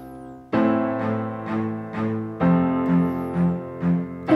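Piano and cello pop arrangement played back from a sequencer, with sustained cello notes under rhythmic piano chords repeating in a steady pulse, clear and fairly loud with no talking.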